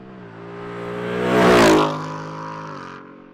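A 2018+ Mustang GT with an AWE Track Edition cat-back exhaust at full throttle, a single pass that swells from a rising growl into a loud, close roar at its peak, then fades back down, with no voices.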